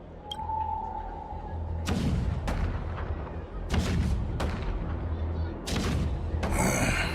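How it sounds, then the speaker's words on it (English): Heavy booms of cannon fire in Honkai go off repeatedly, each blast followed by a deep rumble, with a rising whistle early on and battle noise throughout. "The rumble of the cannons."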